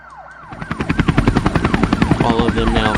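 Helicopters thump in a loud, rapid, rhythmic chop that swells as they approach a school, while emergency sirens wail in repeating rising and falling sweeps over them.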